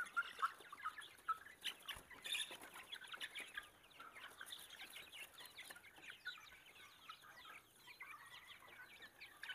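Chickens cluck and call continuously in a village coop, many birds close by and overlapping in a busy, steady chatter with occasional louder squawks and no talk.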